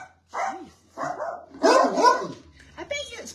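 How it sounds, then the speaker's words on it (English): A dog barks in a few separate bursts, moderately close, mixed with whimpering yips and a person's voice talking around it. "I bet you it's my blinking dog."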